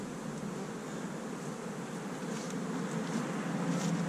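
Honey bees buzz steadily around hives in an apiary as they are being moved, a dense, continuous hum with no voices, holding level and swelling slightly toward the end.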